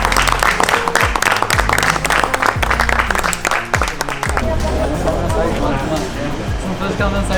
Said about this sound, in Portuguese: uma salva de palmas pro nosso filme!